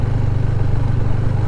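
A loud, steady low engine thrum with a rapid pulsing beat from a 2018 Husqvarna Vitpilen 401 single-cylinder motorcycle held at revs, close up and continuous.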